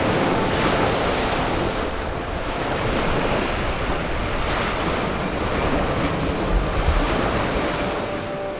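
Ocean surf rolling and breaking continuously, loud and close, with heavy wind buffeting the microphone and no voices.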